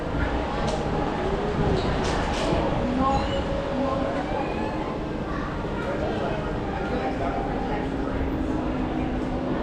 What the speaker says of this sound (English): We're riding the monorail.